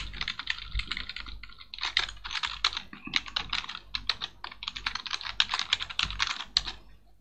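Fast, continuous clatter of keys on a computer keyboard, close and moderately loud, with brief pauses between bursts and no one talking.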